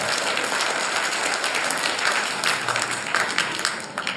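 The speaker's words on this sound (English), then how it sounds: "So they also deserve huge round of applause." Applause at a school annual report event, a dense, loud and sustained sound of many hands clapping together.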